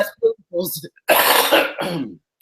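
A harsh, raspy cough bursts out close by, surrounded by brief bits of talking before and after.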